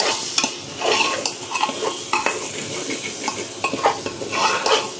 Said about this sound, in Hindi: तो इसको बढ़िया से फ्राई कर लेते हैं